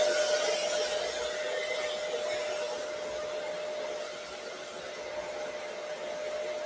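A hair dryer blowing cool air during a lace wig installation, a steady, moderately quiet whooshing hum with a faint motor whine, running continuously without speech.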